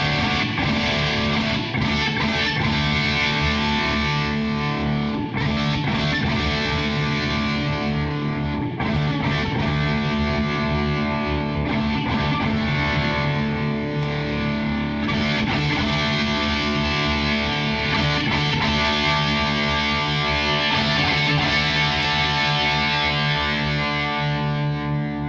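Electric guitar through a Mooer Black Truck distortion pedal with the tone knob set to the middle, playing continuous heavily distorted chords and riffs, loud and sustained with no talking.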